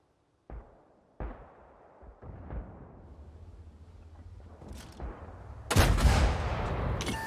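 A few sharp booming tank cannon shots from a video game, a Matilda IV tank, ring out, spaced apart, each with a fading tail, followed by a louder blast and rumbling noise.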